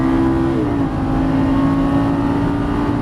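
A Lamborghini Gallardo Superleggera LP 570-4 accelerates on a track, its engine a loud, steady roar whose pitch drops briefly as it upshifts, then holds a constant drone heard close up.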